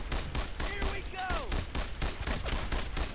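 Gunfire from the World War II shooter Brothers in Arms: Earned in Blood, with dense, repeated bursts of rifle and machine-gun fire crackling continuously throughout under game ambience and a few whistling tones.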